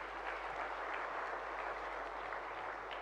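Applause from a large crowd honouring bank employees at Bandhan Bank's ninth foundation day celebration, a dense, steady wash of clapping that holds evenly for about three seconds without letting up.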